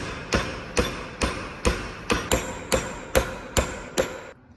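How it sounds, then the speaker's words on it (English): A hammer strikes a part on a 6.7 diesel turbo setup with about ten sharp metallic blows in an even rhythm, close and loud, with no talking. "Think he needs a bigger hammer?"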